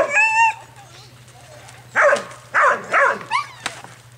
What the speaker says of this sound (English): He's a funny dog, isn't he?